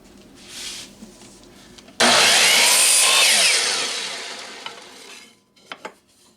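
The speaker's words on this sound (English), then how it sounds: "let's cut our dowels using the same stop that we used to cut the planks" A hand saw cuts through wooden dowels against a stop block, one loud continuous stretch of fast strokes lasting a few seconds, then a couple of light knocks as the piece comes free.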